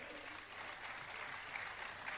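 An audience at a Jain religious gathering honoring a community leader bursts into dense, steady applause, a continuous wash of many hands clapping that sustains throughout at a moderate distance.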